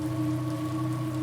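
Rain falls steadily outside a college dormitory at night just after a fire alarm has stopped. The patter is close and dense, runs without a break, and has no voices over it.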